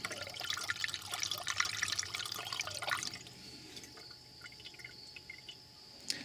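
Engine coolant trickles and gurgles into the coolant reservoir of a Dodge Grand Caravan during a top-up, a faint close pour that thins into sparse drips after a few seconds.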